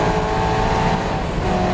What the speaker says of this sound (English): Sadly, the engine lets go.